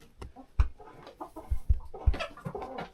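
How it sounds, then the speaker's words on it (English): Chickens cluck and murmur inside a coop, with short overlapping calls and a few louder bursts amid scratching and shuffling, fairly close and without talk. "the chickens came in and there's a lineup"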